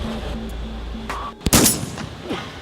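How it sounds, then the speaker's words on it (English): Staged active shooter training drill: a single sharp gunshot cracks loudly and close, followed by a second burst with metallic ringing, breaking into a quieter background. "There's a guy with a gun, he's shooting."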